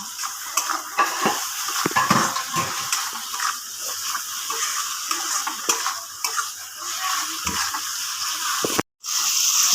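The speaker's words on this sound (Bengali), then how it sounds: "এবার আমি মশলাটাকে একটু ভালোভাবে কষিয়ে নেব" Spice paste with turmeric fried in a pan for a Bengali fish-head moong dal, a lively close sizzle broken by repeated scraping strokes of a spoon against the metal, ending in a sudden short silence and a brief resumption.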